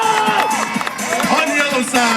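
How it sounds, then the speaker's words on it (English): A loud crowd cheers and shouts for Hamilton and Oakville firefighter relay teams at an outdoor competition final, with constant babble, whoops and scattered clapping, and an announcer's voice carrying over the noise. "Come on, folks, let's cheer these two teams on."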